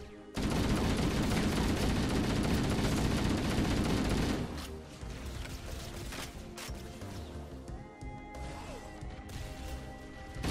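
Rapid automatic gunfire in the video game Halo: Combat Evolved, a dense loud burst of shots for about four seconds, then quieter scattered game sounds and faint impacts.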